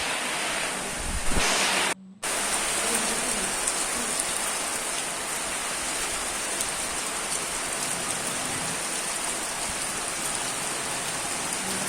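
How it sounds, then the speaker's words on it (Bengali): Heavy rain falls outside in a loud, steady downpour, a dense hiss of drops on surfaces broken only by a brief cut near the start, with no speech. "বাইরে প্রচণ্ড বৃষ্টি পড়ছে সে আওয়াজটাও তোমরা পাচ্ছ দেখেছো কেমন জোরে জোরে বৃষ্টি পড়ছে"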